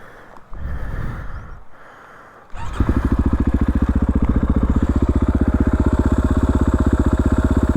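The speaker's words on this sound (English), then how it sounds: "Yeah, you can hear it. My fan sounds a little weird." A vehicle engine runs while its radiator fan sounds odd, a loud, fast, steady pulsing hum that starts abruptly after a few seconds of quieter rumbling.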